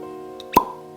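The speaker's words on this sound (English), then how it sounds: "man, that's a nice cork pop there." Cork pulled from a bottle of 1792 Small Batch bourbon, one sharp hollow pop, close and crisp, over a faint steady background hum with no talking.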